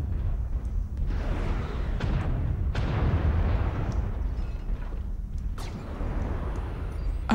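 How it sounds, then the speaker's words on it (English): Repeated heavy booms of incoming missile impacts in the MechWarrior Online canyon battle, several close blasts with sharp attacks that decay into a rumbling roar, one after another over a constant low battlefield drone, with no voices. "Warning, incoming missile."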